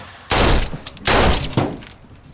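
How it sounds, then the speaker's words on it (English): A layered rifle gunshot effect with a shell casing: loud, close cracks that each burst into a wide wash of noise and decaying echo, with a faint metallic ring between shots. "for that long rifle crack where it goes and you just hear it echo."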